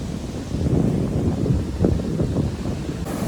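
Cold mountain stream water flowing in Sabino Canyon, Arizona, a steady broad rushing wash that stays close and fairly loud throughout with no voices over it.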